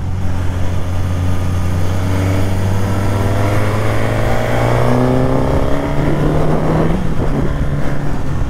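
A Suzuki GSX-S 950 motorcycle engine cranks and settles into a loud, steady idle close by, its low drone rising slightly in pitch before a brief rough burble near the end.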